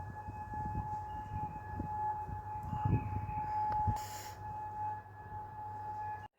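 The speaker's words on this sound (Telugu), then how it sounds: "ఈ సైరన్ మోగగానే పైన పెద్ద బ్లాస్ట్ అయితే జరిగింది ఆకాశంలో." An air raid siren sounds over Kuwait in the early morning, a steady, sustained wailing tone heard from a distance at low volume, with a brief louder burst near the middle and no speech.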